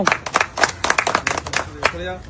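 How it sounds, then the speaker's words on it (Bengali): Scattered clapping for a player at a bottle-flip winter blanket prize challenge, about a dozen quick uneven claps over a couple of seconds, with voices talking at the same time. "সবাই শান্টুর জন্য একটি জোরদার তালিয়া দেবে"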